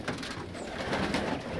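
Pigeons coo in an aviary, soft low throaty calls repeating close by over a busy background of fluttering and shuffling birds, with no one speaking.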